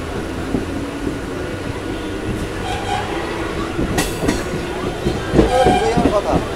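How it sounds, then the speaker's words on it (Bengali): A train arrives at Naihati Junction station, a galloping local, rolling in with rumbling wheels and clatter, brakes squealing faintly near the end, while voices murmur nearby. "আমাদের ট্রেন এসে গেছে নৈহাটি জাংশন রেলওয়ে স্টেশনে।"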